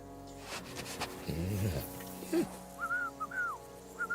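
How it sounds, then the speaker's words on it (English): A character whistles in the video game Kingdom Come: Deliverance 2. Several short, clear rising and falling notes come after an animal-like low sound, with fairly quiet background ambience. "Your whistling is getting on my fucking nerves the whole way"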